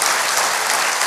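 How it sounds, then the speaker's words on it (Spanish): Loud, dense applause from a congregation at a pastors' retreat, steady clapping filling the whole brief moment with no speech. "Denle un aplauso fuerte al Rey bendito."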